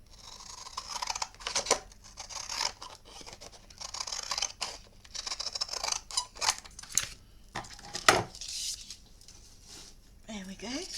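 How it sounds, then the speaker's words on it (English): Scissors cut paper for a handmade mini album in a series of close, crisp snips and rustles, irregular and repeated, with some quiet handling noise between cuts. "I'm just going to use my scissors,"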